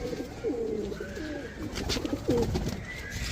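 Pigeons coo softly in repeated low, rolling phrases, close by, over a steady background hiss.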